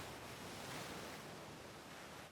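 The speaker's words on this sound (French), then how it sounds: "Les vagues, les marées retournent les fonds rocheux et malmène toutes les créatures qui s'y trouvent." Waves breaking on a shallow, rocky coastline, a continuous broadband roar of surf with a wind-like hiss, steady and fairly loud throughout.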